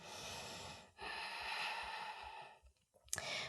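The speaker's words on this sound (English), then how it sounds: "Breathing here." Slow, steady breathing during a vinyasa yoga pose, a long airy exhale followed by a brief pause and a sharp intake, close and fairly quiet with no talking.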